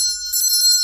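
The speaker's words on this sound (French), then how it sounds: "c'est vraiment le son de la cloche, pas le son d'un mécanisme ou d'un bruit" A small magic-trick bell struck by a weighted clapper gives bright, sustained metallic rings, with a second stronger strike about a third of the way in, clear and close.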